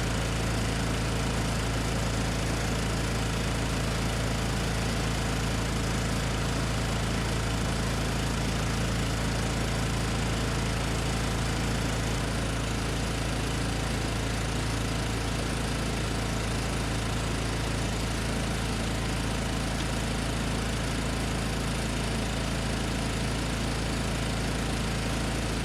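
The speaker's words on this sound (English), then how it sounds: "I'm gonna fire up the welding machine" A portable engine-driven welding machine runs steadily near a semi trailer, a loud, continuous mechanical drone with a strong low hum and constant rattling vibration, with no talking.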